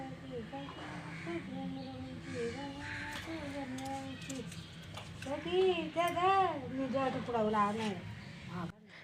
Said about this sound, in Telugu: కాకులు అయితే పైన తిరుగుతున్నాయి